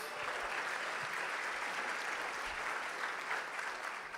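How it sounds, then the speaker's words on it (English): Audience applause fills a folk music showcase reception after an opening song and welcome remarks, a steady, dense wash of many hands clapping evenly throughout. "Give them a round of applause"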